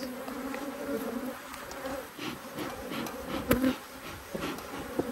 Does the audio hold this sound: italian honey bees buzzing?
yes